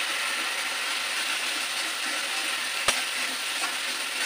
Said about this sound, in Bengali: এই মশলাটা আমি একটু ভালো করে ভেজে নিয়েছি